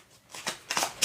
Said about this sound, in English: shuffle in the Master Gardener card into that small deck of cards, shuffle it up